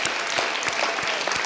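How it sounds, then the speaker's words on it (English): Audience applause for Amir at a stage show, a dense steady patter of many hands clapping with a few louder individual claps punctuating it, filling the room evenly. "Another round of applause for Amir."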